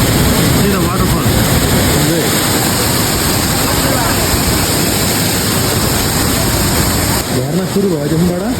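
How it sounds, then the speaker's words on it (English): Water rushes steadily down a waterfall on a hike from Sundarijal, a loud unbroken roar filling every moment, with a voice speaking faintly beneath it near the start and end. "See the waterfall."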